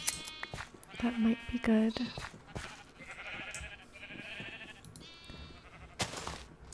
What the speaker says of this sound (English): Wow, okay, we have quite a few sheep now.